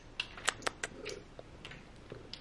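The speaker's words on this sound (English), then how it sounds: "Oh, big purrs because you got the sun? You purring so loud." A pet cat purrs loudly while basking in sunshine by a window, a close, soft rumbling interrupted by several sharp clicks or taps, with no voices.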